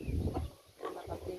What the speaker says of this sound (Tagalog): Yan yung baboy.